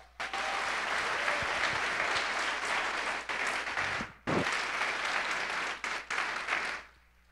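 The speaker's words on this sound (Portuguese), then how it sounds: "Vamos dar um aplauso pela vida da igreja?" A church congregation at a Portuguese-language service bursts into loud, sustained applause, with the clapping briefly dipping twice before picking back up, then trailing off at the end.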